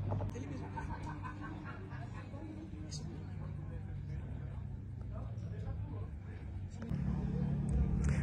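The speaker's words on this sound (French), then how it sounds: "Oh, une Ferrari! Magnifique la Ferrari!" A Ferrari drives past on the road at an open-house day for a grand touring car importer. A low engine rumble builds toward the end beneath ongoing voices and background chatter.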